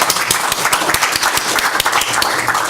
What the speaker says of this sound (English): Can I just get a round of applause for all the speakers that we've had today, please?